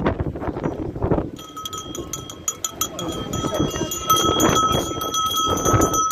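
Livestock bells clang and jingle repeatedly at close range at a market fair in Benkovac, Croatia, ringing steadily over a noisy background, with people talking at the start.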